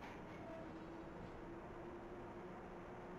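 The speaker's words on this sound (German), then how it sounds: "Man hört im Hintergrund auch schön das Schaltwerksklackern." Switchgear clatters inside a class 141 electric locomotive in a Minecraft train simulation, a steady low rumble of running gear with a faint tonal whine, continuous and even, no talk.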